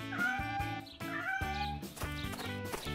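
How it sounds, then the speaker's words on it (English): Kittens meowing in a cartoon-style doll story, several repeated tonal meows over a bed of rhythmic background music, moderately loud. "Kittens, how cute."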